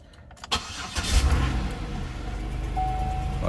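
A 2006 Buick Lucerne CXL with 98,382 miles cranks briefly and catches, its engine revving up loudly before settling into a steady idle close by.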